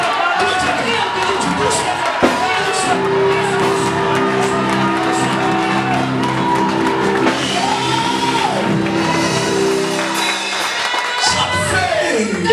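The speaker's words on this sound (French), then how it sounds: "I like the way you are shouting." A church congregation shouts and cheers together in a loud, continuous roar, with whoops and held vocal tones and the crowd's voices layered throughout.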